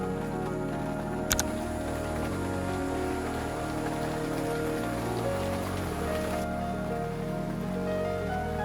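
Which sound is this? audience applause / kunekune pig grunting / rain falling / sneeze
rain falling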